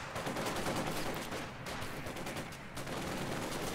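Dense infantry small-arms fire from a Company of Heroes 2 battle, with Soviet conscripts engaged by two German grenadier squads, rattling in continuous bursts and overlapping volleys close by for the whole stretch, briefly thinning twice.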